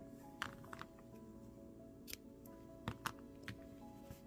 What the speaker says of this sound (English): I'm going to trim my yarn